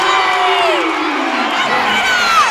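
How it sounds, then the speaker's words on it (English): A women's college basketball crowd cheers and whoops after a made three-pointer, a loud sustained roar with high shouts and a rising yell near the end. "That gets the crowd excited"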